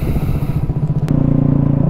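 A Triumph Bonneville motorcycle engine rumbles loudly and close by at night under a bridge, its low roar settling into a steady, throbbing idle pulse.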